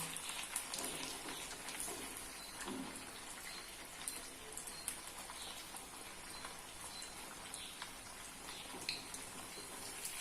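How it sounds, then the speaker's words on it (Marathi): Sabudana vada shallow-frying in a pan, giving a steady, soft sizzle and crackle like light rain throughout, with small pops and no voices. "आणि छान असं तांबूस रंग येईपर्यंत दोन्ही बाजूने भाजून घेऊया"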